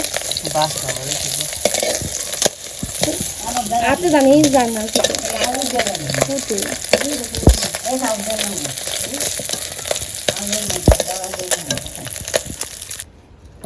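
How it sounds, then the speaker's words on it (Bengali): Fish sizzles and crackles loudly in hot oil in a pan in a village kitchen, with stirring and scraping throughout. Someone talks intermittently over the frying. "মাছ ভাজা হয়ে গেছে"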